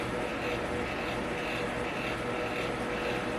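A fan running in a room while a first clutch of reptile eggs is pulled: a constant, loud, even whoosh that never changes over the whole stretch, with no voices.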